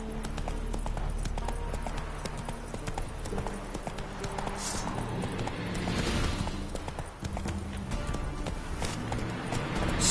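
Roach, the horse in the Witcher video game, gallops with steady rhythmic hoofbeats, loud and close, continuing without a break over low background game sound.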